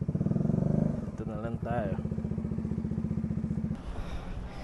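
A motorcycle engine idles and putters steadily close by on a hilly road, its rhythmic low chugging running throughout while someone talks over it and another voice joins briefly.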